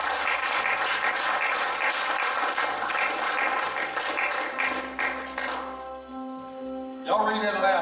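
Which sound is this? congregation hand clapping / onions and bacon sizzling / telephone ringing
congregation hand clapping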